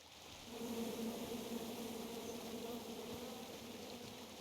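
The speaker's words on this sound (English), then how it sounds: "Come at me, bees!" Bees buzzing steadily around a shaken beehive at the top of a tree in the King's Quest video game, a faint, continuous droning hum with no talk.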